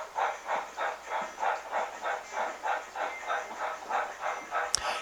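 Rio Grande 1189 model train rolling into the station on a model railroad layout, faint rhythmic clickety-clack pulses at a steady pace, ending with a sharp click.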